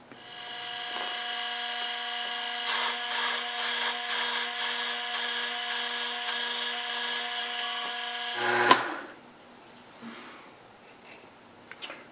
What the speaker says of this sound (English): tapping drill next